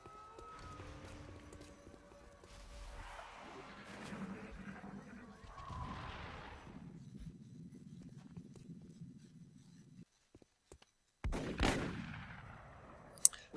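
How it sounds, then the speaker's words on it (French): Gunfire sounds in the XCOM Enemy Within strategy game among assorted quiet game effects, with a louder sharp burst late in the sequence. "Ouais, 2 tirs ratés, j'aurais dû prendre les pistolets."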